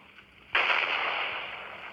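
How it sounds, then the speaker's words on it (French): TNT explosion in a video game, a sudden loud burst after a quiet moment, followed by a sustained rumbling, crackling roar that slowly fades. "Ça fait une explosion comme ça"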